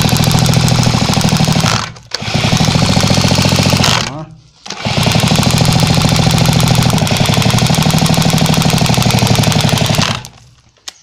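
A Piaggio Ciao moped engine fitted with a modified electronic ignition runs loud and rapid-firing, revving in sustained bursts with two brief drops to idle before cutting off at the end.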